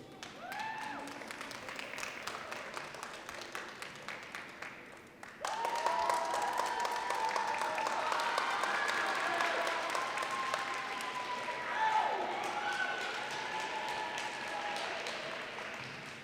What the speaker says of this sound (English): This is a small crowd, but it's a loud one, so keep it up.